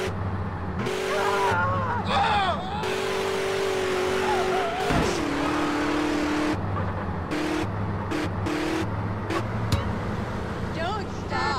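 A car drives in the GTA San Andreas video game, its engine droning steadily and shifting pitch as it accelerates, with brief tire screeches while people talk over it.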